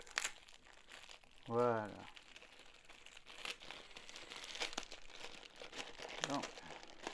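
Packing tape crinkles and rips as it is pulled from a parcel of French silver investment coins, a close crumpling and tearing under a steady background hiss, with a brief voice at the start and end.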